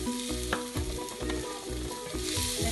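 Tomatoes fry in a pan as the base for a spicy prawn curry, sizzling close up while a spoon scrapes in a regular stirring rhythm. No voices are heard.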